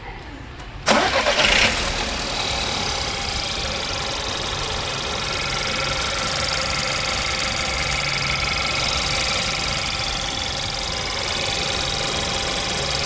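A Volkswagen Polo car engine cranks and catches about a second in with a sharp burst, then settles into a steady, even idle that runs close and continuous for the remainder.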